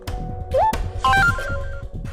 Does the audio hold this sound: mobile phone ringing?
yes